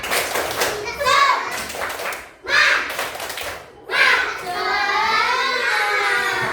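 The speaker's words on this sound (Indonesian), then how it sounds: "Tepuk semangat dulu" Schoolchildren in a classroom perform the rhythmic 'tepuk semangat' spirit clap, with bursts of group chanting and sharp claps in several phrases, close and loud, ending in a sustained shouted cheer.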